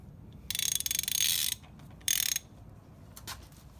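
A ratchet wrench strains against a locked S550 Mustang engine that will not turn over: two loud bursts of rapid, close clicking, then one faint click, with no talking.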